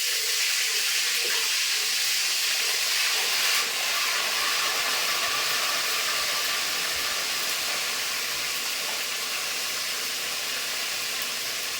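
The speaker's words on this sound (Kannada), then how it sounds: "ಎಣ್ಣೆ ಬಿಸಿ ಆಗ್ಯದ ಇದಕ್ಕೆ ಶುಂಠಿ ಬೆಳ್ಳುಳ್ಳಿ ಪೇಸ್ಟ್ ಹಾಕ್ಲತ್ತಾರೆ" Ginger garlic paste sizzles loudly and steadily in hot oil, a dense unbroken hiss close to the pan that hardly changes for the whole stretch.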